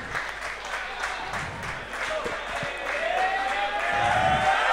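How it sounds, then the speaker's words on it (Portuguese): Crowd applause and cheering after a rap battle round at a semi-final event, a dense wash of clapping that swells and grows louder toward the end, with voices mixed in. "Time! Foi o último round do Kangajil, aplausos!"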